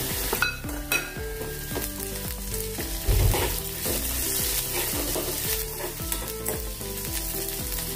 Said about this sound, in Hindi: अच्छे से मिक्स कर लिया है हमने